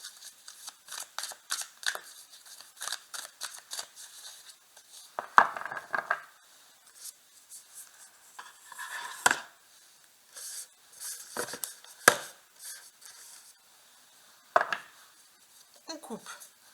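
Tarot card deck being cut and handled, with crisp papery snaps, shuffling rustles and slides in irregular bursts, close and fairly faint against a quiet background.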